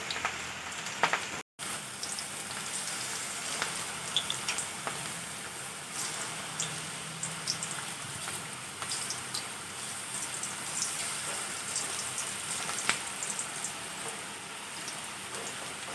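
Wheat flour pakodi fritters fry in hot oil, a continuous fine crackling sizzle that stays steady and close for the whole stretch, with a brief dropout near the start.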